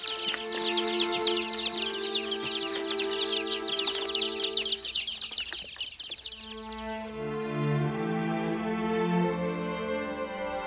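Baby chicks peep in a dense, rapid flurry of high chirps for several seconds, fairly close and continuous, before fading as lower sustained tones take over.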